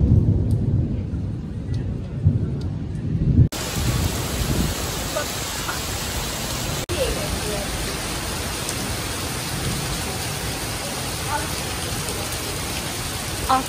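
Steady, heavy downpour of rain during a thunderstorm on a Budapest street, a dense continuous hiss with low rumbling beneath, the sound cutting abruptly twice as the recording jumps.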